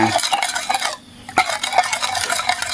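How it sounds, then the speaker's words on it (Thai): A spoon scrapes and clinks steadily as seasoning is stirred into a shrimp and glass noodle mixture, with a brief pause midway before the rhythmic scraping resumes. "คนส่วนผสมให้เข้ากันเลยค่ะ"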